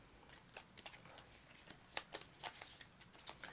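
A deck of cards is shuffled during a solo board game, a quick run of crisp riffling flutters and snaps, close and fairly soft.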